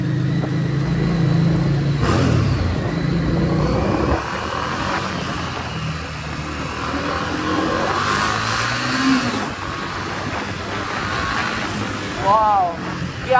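A Harley-Davidson Street 750 motorcycle accelerates on the road, its engine rising and falling in pitch as it pulls away, with loud wind rush and a voice speaking over it.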